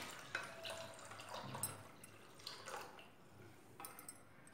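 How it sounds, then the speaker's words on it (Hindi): Water is poured into a pani puri spice mix, faint splashes and drips trickling in a few quiet bursts. "और इसमें पानी मिला देंगे।"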